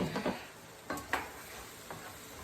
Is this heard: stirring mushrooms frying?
yes